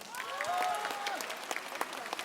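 An audience at a Cantonese singing competition show gives a light, scattered round of clapping to vote, fairly soft, with a voice speaking over it.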